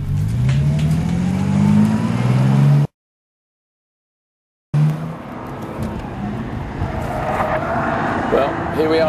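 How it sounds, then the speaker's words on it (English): A Bentley Continental Supersports driving laps of the Nürburgring, its engine note loud and steady with rising and falling pitch as it accelerates, broken by a brief gap of silence partway through. "But here we are today, driving this new extreme Bentley around this phenomenal track."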